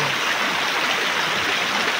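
Strong rushing water roars steadily, a dense broadband wash of a fast-flowing river heard up close with no talk.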